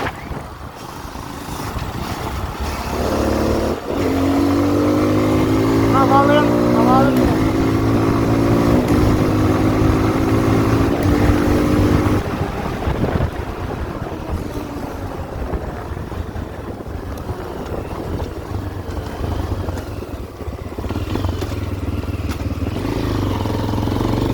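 A Tekken 250 R-line motorcycle from 2024 cruises along steadily, its engine droning and rising through a gear change under constant wind rush, then settling into a smooth, even hum at moderate speed.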